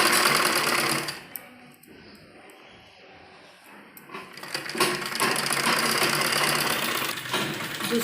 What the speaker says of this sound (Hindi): दूसरी तरफ भी हम घेर पर इसी तरह से थोड़ा थोड़ा फोल्ड करते हुए सिलाई लगाएंगे।